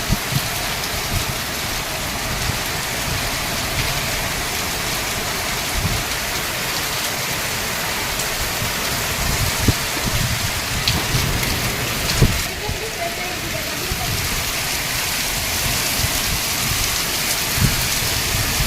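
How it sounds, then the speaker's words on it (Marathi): Heavy rain pours steadily in a loud, continuous roar, with scattered sharper drips and knocks standing out from the wash of sound. "खूपच जोरात पाऊस चालू आहे"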